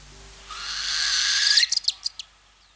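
A northern hawk owl calls with a long, rising, shrill trilling whistle that ends in a quick series of clipped chattering notes, close and clear against a quiet background.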